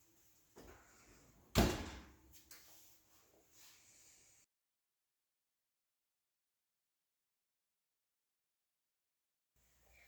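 An oven door swings on its hinges in a home kitchen with a single sharp closing thud, surrounded by soft handling clatter before the room falls silent.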